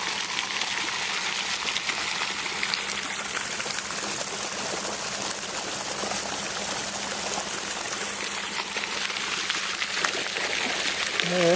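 Steady flowing water in a park, sudsy and foamy, rushes continuously with a constant broadband hiss, close and fairly loud throughout.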